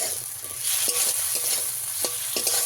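Fresh pond-caught rohu-type fish pieces fry in a pan with a constant crackling sizzle, while a spatula taps and scrapes the metal several times close by.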